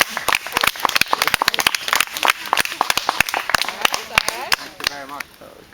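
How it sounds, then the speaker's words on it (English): An audience claps in a brisk, uneven patter of sharp hand claps lasting several seconds, with voices talking over the applause and the clapping thinning toward the end. "Give them a clap."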